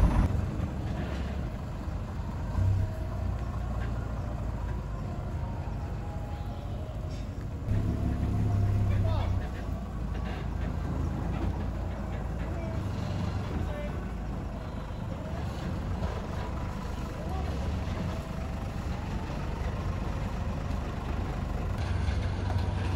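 Diesel engine of a vintage 1991 bus idling and reversing, a steady low rumble throughout with people talking over it.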